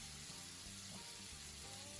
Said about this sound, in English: Continue frying piece by piece until finished